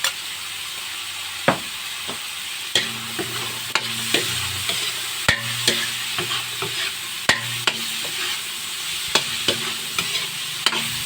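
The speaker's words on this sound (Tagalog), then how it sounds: "Haluin lang natin to" Baguio beans, carrots, potato and black mushroom being stir-fried for chop suey: a steady sizzle under repeated sharp spatula scrapes and clicks against the pan, close and fairly loud.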